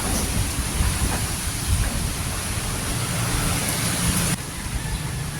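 Heavy rain from Typhoon Uwan pours down in Leyte, Philippines, a loud, constant roar of water with low rumbling underneath that drops slightly in level near the end.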